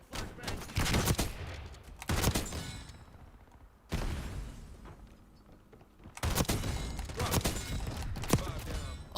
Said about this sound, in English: Incoming flashbang.